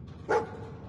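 A single short bark from a dog in a post-apocalyptic role-playing game, sharp and fairly close, over a quiet background hum.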